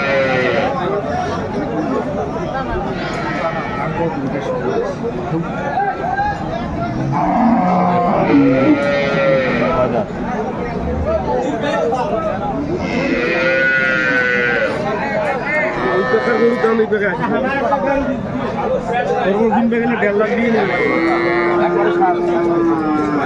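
Cattle moo repeatedly, some close and loud, over a crowded outdoor cattle market at Aftabganj Hat, Dinajpur, where many people talk and haggle throughout.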